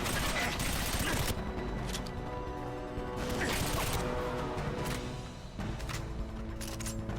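Rapid gunfire in GoldenEye 007 on the Wii, dense, loud sustained automatic fire with crashes and impacts, filling most of the stretch with only brief dips, and no talk.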